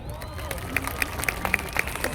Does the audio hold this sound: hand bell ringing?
no